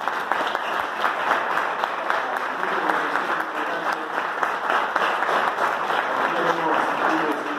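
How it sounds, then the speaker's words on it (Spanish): Audience at a tribute ceremony in a Basque cultural centre gives sustained applause, a dense, steady roar of many hands clapping that holds evenly for several seconds with faint voices underneath. "Pero quiero pedir a ustedes un aplauso."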